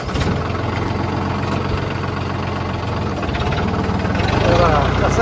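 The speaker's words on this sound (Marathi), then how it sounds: "हे बघा आमचा महिंद्रा जिओ" Mahindra tractor, a Jivo model, idling after loading, with a steady close, loud low diesel throb and knocking pulse that swells slightly near the end, with people talking over it.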